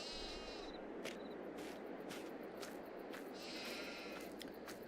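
Sheep bleat a few times in the Farm Sim 22 video game, their short cries rising over a steady wash of ambient farm noise at moderate distance.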